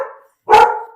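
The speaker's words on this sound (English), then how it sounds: "the dogs are loud" Dogs barking indoors during a home computer build, heard as a loud, close bark after a brief silence, with the tail of an earlier bark at the start.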